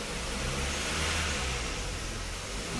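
Kia Cerato engine held steadily at 2000-2500 rpm during injector cleaning, a loud, constant mid-pitched drone with a slight swell in the middle, heard up close with no voices.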